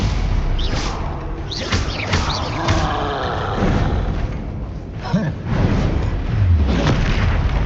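A Stupefy spell fires in Hogwarts Legacy with booming magical blasts and thuds, several heavy bursts spread across a dense, busy combat soundscape.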